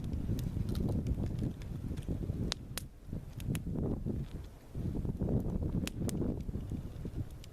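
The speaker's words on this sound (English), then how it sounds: "Hey now, wind. Chill the fuck out." Gusty desert wind buffets the microphone overnight, rising and falling in rough surges with scattered sharp ticks and flaps, fairly faint and with no talking.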